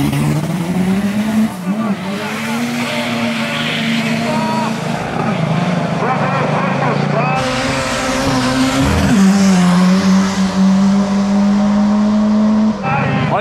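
A red Volkswagen Gol races past with a loud, steady engine drone that rises and shifts pitch, with a brief tire squeal and people talking over it throughout.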